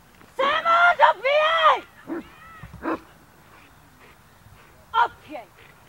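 A dog working at a PSA protection sport national trial gives a few loud, close vocal bursts, whines and yips, with a handler's brief shouted commands between them.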